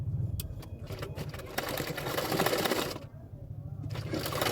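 Sewing machine stitching a belt onto a half-collar bra-cut blouse, a close, steady whirring run that pauses briefly and resumes, mixed with faint handling noise.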